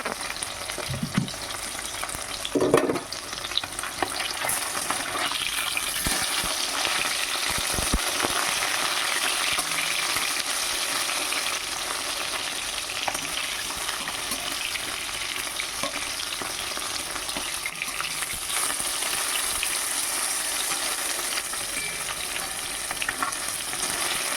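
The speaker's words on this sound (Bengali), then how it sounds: "মাছ খুব ভালোভাবে ভাজা হয়ে গেছে।" Fish fries in hot oil with a constant, crackling sizzle over a long stretch, broken by occasional spatula scrapes and taps against the pan.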